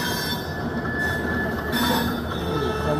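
A superfast passenger train runs on rails near Bhubaneswar–Howrah at high speed, heard as a steady, loud roar of wheels with a continuous metallic squeal above the rumble.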